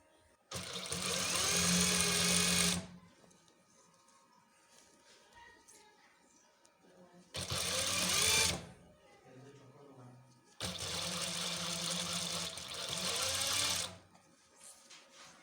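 Sewing machine stitching a cloth mask seam, three loud steady runs of motor whirring and needle chatter separated by quiet pauses with faint handling noise, close by.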